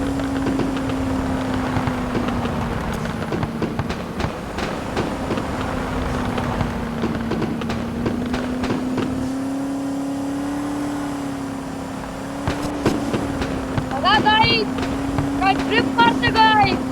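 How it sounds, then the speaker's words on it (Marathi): A Porsche drifting in a video game, its engine holding a steady, droning tone that rises and falls slightly, with squealing tire bursts near the end and a voice talking over it. "गाईस बघा कशी ड्रिफ्ट मारते"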